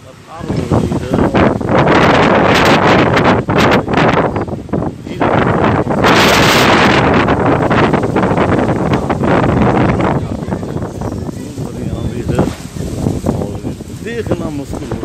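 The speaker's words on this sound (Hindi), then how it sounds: "बहुत तेज हवाएं चल रही है, इतनी तेज हवाएं है, धूल भरी आंधी हो रही है।" Strong wind of a dust storm in Jhansi roars and buffets across the microphone almost continuously, loud and close, easing briefly near the start and again around ten seconds, with a voice partly buried underneath.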